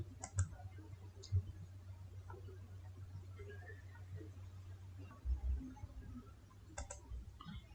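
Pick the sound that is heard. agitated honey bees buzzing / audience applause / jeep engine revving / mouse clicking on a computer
mouse clicking on a computer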